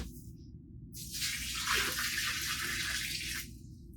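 Pre-measured water is poured into a bag mix, giving a steady, close rushing stream that lasts a few seconds and then stops.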